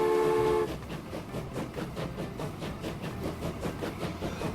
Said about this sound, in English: the doors open up, and here comes our train